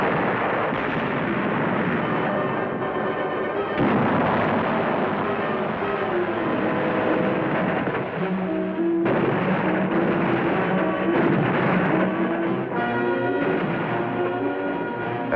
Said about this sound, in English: Enemy artillery is zeroed in on our positions.